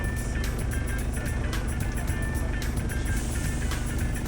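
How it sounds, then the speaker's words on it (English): Dense London road traffic with many buses, a constant rumble of engines and passing vehicles heard from nearby, steady and unbroken, with no one talking. "There's a lot of buses in London."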